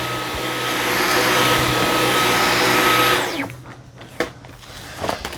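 A Dyson V15s Detect Submarine cordless vacuum runs loud and steady with a whine while cleaning carpet, then powers down around three seconds in, followed by quiet handling clicks and a couple of soft knocks.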